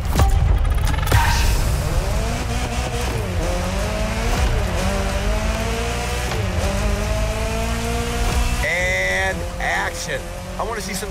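Off-road buggy race in The Crew Motorfest driving game: loud, steady engine drone with rising and falling revving pitch and occasional tire squeal, continuous throughout with game music underneath.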